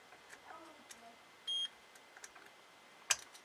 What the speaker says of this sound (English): you can put your multimeter in continuity mode, and you want to make sure that there's continuity